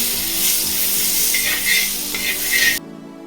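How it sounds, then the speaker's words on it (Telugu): Bread toasting in butter on a hot pan gives a steady, close sizzle with soft scraping, before cutting off abruptly near the end. "బ్రెడ్ టోస్ట్ చేసుకోండి"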